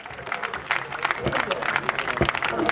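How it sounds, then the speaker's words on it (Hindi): At a community celebration for Maharaja Ajmeedh Jayanti, an audience claps in a dense, continuous burst, with voices talking over the applause throughout. "तालियां रुकनी नहीं चाहिए।"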